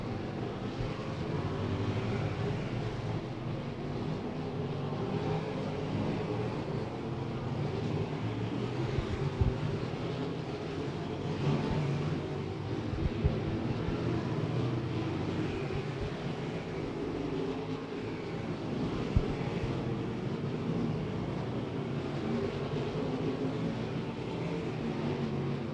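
Sprint cars on hot laps at Beckley Motor Speedway, a dirt track: a steady, continuous engine roar from cars circling at a distance, with no break and no talk.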